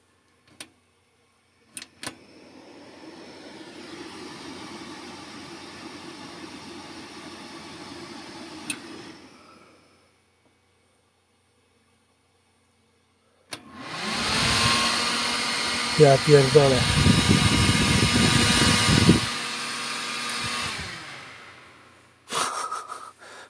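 A desktop computer restarted with the reset button roars with loud fan noise that cuts off, goes silent, then surges back louder with whirring and ticking, and a man swears briefly.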